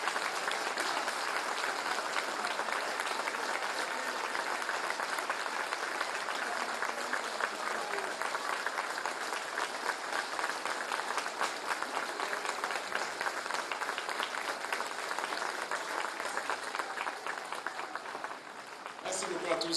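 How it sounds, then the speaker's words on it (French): A large crowd applauds continuously and densely for the whole stretch, a steady roar of clapping that stays loud and even with no pauses. "Donc une minute d'applaudissement."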